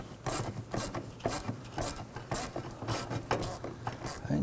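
Hose clamp on the vapor canister of a 2015-2024 Nissan Murano being snugged down with a screwdriver or number 6 socket, heard as a run of short scraping, ratcheting clicks in an irregular rhythm, close and moderately loud.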